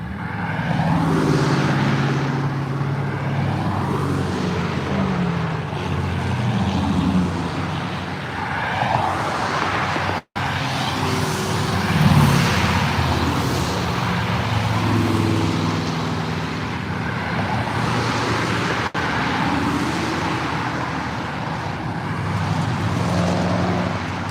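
A Dodge Charger SRT8 cruises past amid Woodward Dream Cruise traffic, a rumbling engine among other passing cars with steady roadway noise throughout.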